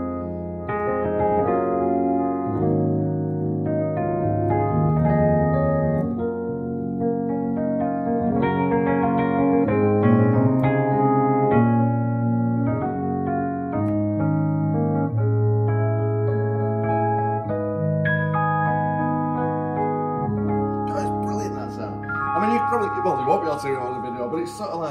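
Roland LX708 digital piano playing an electric piano voice with a phasing stereo effect, sustained chords and melody filling the whole stretch at steady volume, no talking.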